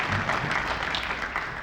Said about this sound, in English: crowd applauding.